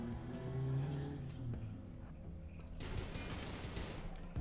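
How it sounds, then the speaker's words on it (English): Rapid gunfire bursts from an auto-firing turret in the Rimworld video game, a Warhammer 40K Ork-themed setup, crackling in a dense volley over a low game soundscape, growing busier toward the end. "does that turret auto-fire?"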